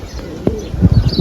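Pet pigeons coo nearby in a brief, low, throaty burst of soft warbling pulses.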